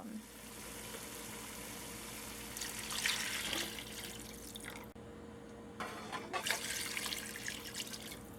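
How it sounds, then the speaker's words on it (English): Water poured from a tap into a pot of simmering chicken, a steady faint trickling and splashing that swells in two stretches, with a low kitchen hum beneath. "So now I'm just gonna add some water and we're gonna let it cook down."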